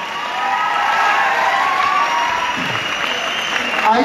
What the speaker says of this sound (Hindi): आपकी तालियों की गड़गड़ाहट रुकनी नहीं चाहिए